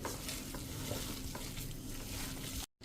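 Radish bhajiya batter with gram flour being mixed by hand or spoon in a bowl: a steady, close, wet churning texture with a few soft knocks, running alone without pause until it cuts off abruptly at the end.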